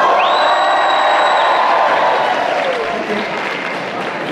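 A crowd at a cosplay contest applauds and cheers loudly, with dense clapping, whoops and shouts. A sustained tone runs through the opening second, then the noise eases slightly toward the end.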